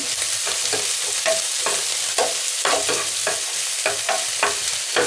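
Carrot pieces stir-fried in a little oil in a pan for a vegetable stuffed kajjikaya filling, a steady sizzle broken by repeated scraping strokes of a spoon, close and loud with no talk.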